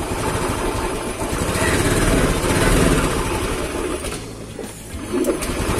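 Honda Beat ESP scooter engine idling with a rough, stumbling note from a suspected faulty TPS sensor, a steady close mechanical rumble that swells slightly mid-clip, then dips and recovers, with no talk over it.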